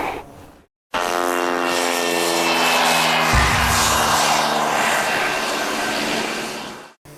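An Autel Evo 2 Pro drone flies with a loud, steady high-pitched propeller whine and buzz, starting abruptly after a short pause, holding for about six seconds, then cutting off.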